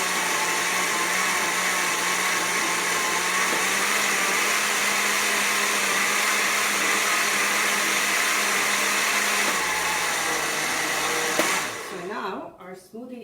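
A blender whirs loudly, blending a strawberry and mango smoothie at varying speeds. The steady high roar holds for about eleven seconds, then cuts off and winds down.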